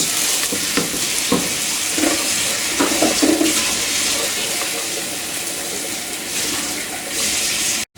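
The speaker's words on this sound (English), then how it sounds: "The rice is being washed, as you can see, and the water's being drained out." Rice being rinsed and its water drained, steady broadband running-water rush pouring for several seconds with a few soft clatters, close and fairly loud, ending abruptly.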